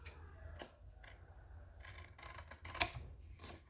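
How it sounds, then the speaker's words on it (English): Scissors cut paper at an angle to trim the edges of a paper purse, making a few faint, soft snips and rustles, quiet and close, with one crisper snip near the end. "So I'm just going to cut on an angle"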